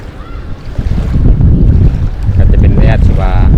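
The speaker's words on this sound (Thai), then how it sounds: "ลมตีแห้งเลย" Dry wind buffets the microphone at a campsite in Vang Vieng, Laos, in a loud, steady low rumble with gusty swells, and a faint voice comes through briefly near the end.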